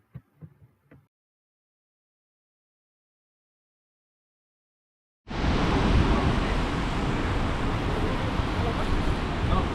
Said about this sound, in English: it doesn't look great in the pouring rain